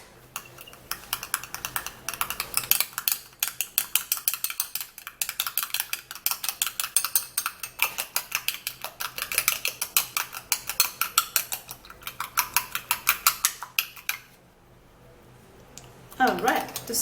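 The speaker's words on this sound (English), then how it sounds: "Now I have to stir it." A spoon stirs a small mixture of milk and peeled potato in a bowl with rapid, steady clicking scrapes that last for about fourteen seconds, then stop.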